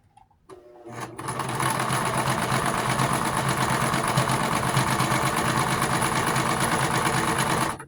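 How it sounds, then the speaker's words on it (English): A sewing machine stitching the side hem of a pant leg, starting after a brief pause and then running at a fast, steady whir with a rapid mechanical tick throughout, close and loud. "I'm really just here to show y'all me sewing this little part. This hem on the side of the pant leg."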